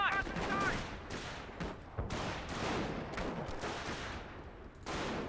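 Sapper infantry firing in a Company of Heroes 1 battle, a rapid crackle of rifle and machine-gun shots at moderate distance, with brief voice lines at the start.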